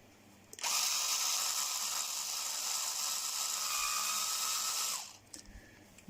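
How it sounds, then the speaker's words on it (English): A power drill whirs steadily at high pitch for about four seconds, enlarging tight holes in a magnet motor part, then winds down and stops, with a few small clatters after. "I need to drill these holes out a bit"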